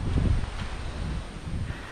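Strong wind at a lakeside surf camp in Kaliraya on a rainy day buffets the microphone in a low, continuous roar with rough gusty bursts, loudest near the start, and no voices.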